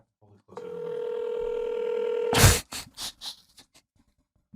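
A telephone dial tone hums steadily for about two seconds while calling a store, then cuts off with a click and a few short noises, fairly close.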